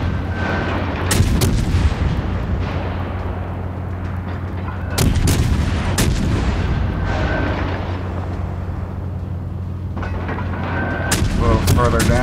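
Heavy naval guns boom repeatedly in World of Warships Legends, loud broadband blasts landing in irregular bursts over a constant engine-like drone, with talk running over parts of it.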